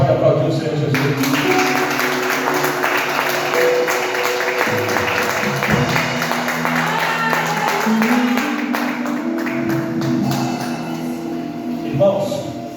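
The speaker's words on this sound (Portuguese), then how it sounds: "Quem pode aplaudir o Senhor Jesus?" A church congregation applauds during a worship service, sustained clapping that continues for several seconds and blends with a preacher's voice and background music.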